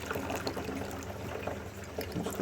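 Liquid poured in during a Hefeweizen brew in a Grainfather, a steady close splashing trickle with soft bubbling that runs the whole moment at low level, no voices.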